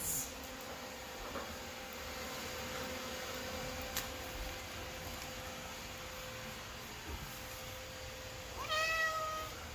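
A house cat gives a single short meow near the end, after a long stretch of quiet indoor room noise.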